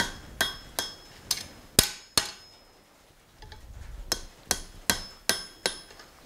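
Hot metal hammered over the horn of an anvil at a blacksmith's forge: a series of sharp ringing strikes, about a dozen spaced blows with a short pause midway, close and clear.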